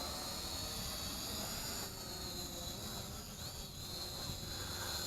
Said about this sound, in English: And lowering the drone.